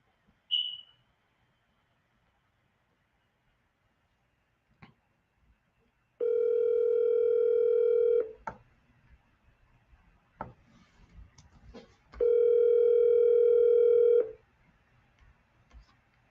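A telephone line on an outgoing call: a brief beep, then two long, steady ringback tones a few seconds apart, clean and loud against near silence with faint clicks between.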